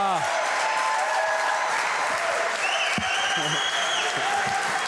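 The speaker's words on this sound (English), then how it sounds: "La foule est en délire" Crowd cheering and applauding at a tennis semi-final of the Pembroke Open de Montreal 2025, a dense continuous roar of clapping and shouts throughout, with a commentator's voice over it.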